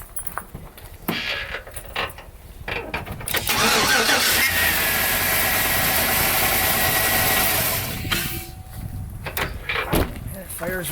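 A car engine cranks and fires up after a fuel pump relay was swapped with the AC compressor relay, catching and settling into a loud steady run for several seconds before dropping off, with brief talk and clunks around it.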